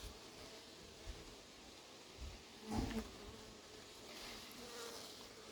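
A faint hornet buzz drones in the background near a beehive and capture-box trap, with one brief closer buzz passing by near the middle over soft rustling ambience.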